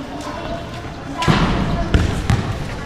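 A basketball thuds on an outdoor court during a casual pickup game in the Philippines, a few scattered bounces landing under ongoing conversation.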